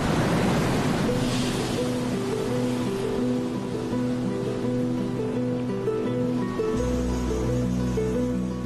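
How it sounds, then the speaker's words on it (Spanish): Pacific Ocean waves along the coast beside the ruins of Chan Chan, Peru, a steady broad roar of surf with a low rumbling swell rising near the end, mixed with a droning tonal background. "Situado a lo largo de la ciudad de Chan Chan, está el poderoso Océano Pacífico."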